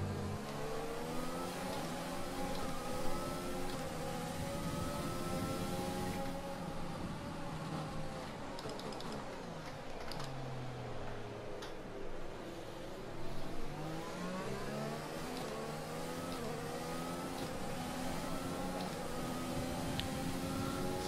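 An F1 race car in F1 2020 revs continuously, its high engine note sweeping up and down through gear changes over about twenty seconds, loud and close.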